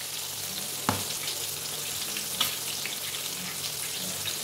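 Homemade KFC-style bone-in chicken pieces fry in hot oil with a steady, even sizzle all the way through, plus a couple of faint clinks.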